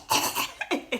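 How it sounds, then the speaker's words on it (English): A woman in induced labour coughs hard, giving several short, forceful, breathy bursts close to the microphone, one longer cough followed by a quick cluster of sharper ones. "You need to really cough hard for this child to wake up."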